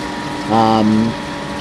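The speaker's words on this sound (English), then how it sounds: "The power flush pump we use, it's fairly new." A power flush pump runs nearby while flushing a domestic central heating system, a steady watery churning hum with a brief louder surge and tonal whine in the middle.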